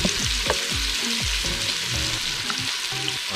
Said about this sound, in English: Or just a little bit of pimento seed. Just a little bit. So fry a little bit.